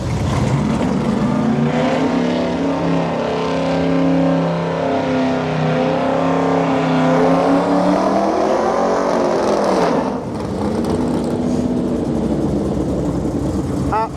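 A drag racing car makes its first run at Santa Pod. Its loud engine roars steadily, with revs rising and falling, then dips and surges again near the end, with talk over it.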